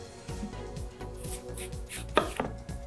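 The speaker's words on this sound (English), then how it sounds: "my favorite way to chop apples for this recipe is to first cut around the core" A knife chops close by through apples around the core on a cutting board, in quick, fairly regular strokes, with a louder thunk near the end.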